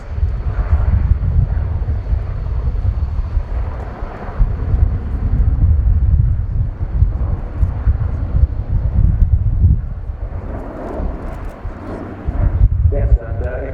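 An Airbus A400M military transport aircraft flies a display at an air show, its turboprop engines giving a loud, broad, surging roar that rises and falls as it banks, with commentary over the top.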